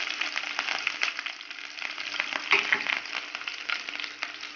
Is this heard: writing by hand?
no